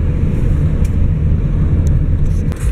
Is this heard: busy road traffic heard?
yes